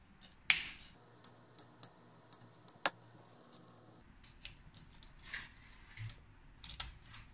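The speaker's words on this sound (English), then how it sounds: "you need tools like this to cut off the string" A cutter snips through an old electric guitar string, a sharp snap followed by a series of small metallic clicks and ticks of tool handling, quiet and close.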